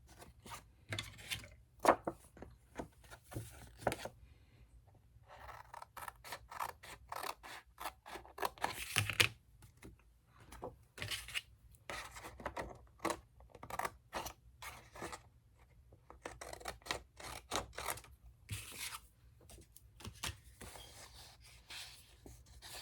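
Scissors snip through paper in a quiet indoor crafting session, a rapid series of close, crisp cuts with short pauses between bursts, and no one speaking.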